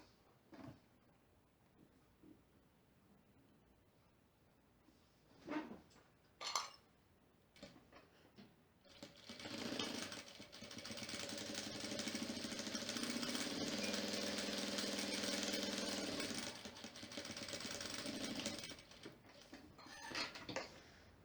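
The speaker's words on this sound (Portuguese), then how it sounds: "E aqui a gente vai fazer uma costura rebatendo." A sewing machine runs a topstitch seam while making a fabric Bible or book holder: a few short taps first, then a sustained close motorized whir for several seconds.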